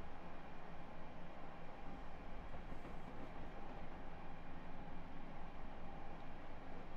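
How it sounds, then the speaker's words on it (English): Steady, quiet rail rumble with faint rhythmic clatter runs throughout as a train moves through a junction on the Washington-Baltimore line, heard from onboard with no talking. "There's a train right there. Look at that."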